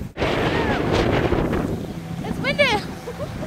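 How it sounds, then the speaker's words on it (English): Wind buffets a microphone outdoors on a walk in Mongolia, a loud, steady low roar running through the whole stretch, with a brief high voice-like sound rising above it near the end. "It's windy!"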